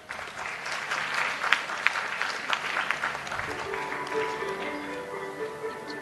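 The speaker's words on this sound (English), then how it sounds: "A round of applause for them." Audience applause fills a hall at a national palliative care workshop, steady clapping from a moderate crowd lasting several seconds before thinning out, with a few louder claps near the middle.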